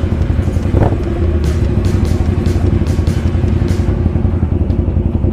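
Ducati Diavel motorcycle on a night ride, its engine a steady, loud low rumble throughout, with a brief clatter near the start and faint ticking above the engine drone.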